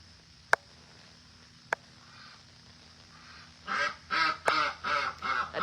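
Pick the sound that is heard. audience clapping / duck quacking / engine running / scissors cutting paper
duck quacking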